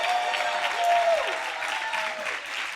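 A church congregation claps steadily through a worship service, the dense applause filling the room while a sustained musical tone sounds faintly beneath it.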